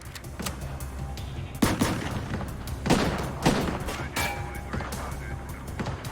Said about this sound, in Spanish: El agente devolvió el fuego.